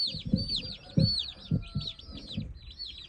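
A rooster gives low, repeated clucks close by while chicks peep in rapid high chirps throughout, the clucks coming in a loose rhythm about every half second.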